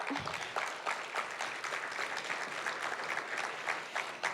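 A crowd applauds steadily, with dense clapping from many hands that continues throughout at an even level.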